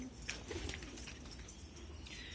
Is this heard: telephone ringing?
no